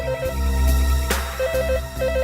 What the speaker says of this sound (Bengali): স্যার ওখান থেকেও ফোনের আওয়াজ আসছে।